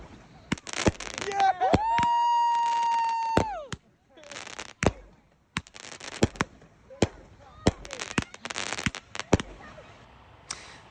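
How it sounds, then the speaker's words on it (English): Fireworks set off on a beach, a series of sharp crackling bursts and pops in irregular clusters, including a long whistling rising streak, loud and close, with people talking between the blasts. "And we let off fireworks at the beach like normal people do."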